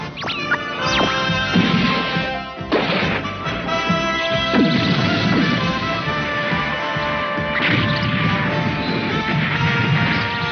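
Loud cartoon missile launches and explosions from a submarine battle, with repeated crashing booms and whooshing bursts layered over a dense, clamorous soundtrack.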